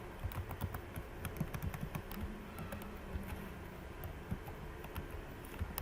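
PHP code being typed on a computer keyboard, a continuous patter of soft, close key clicks in irregular bursts over faint background hiss, with no one speaking.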